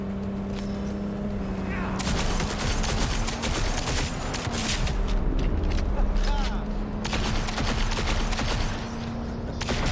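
Gunfire in the Cyberpunk video game, a dense, loud stream of shots and explosive bursts over steady game background noise, with a steady hum running underneath.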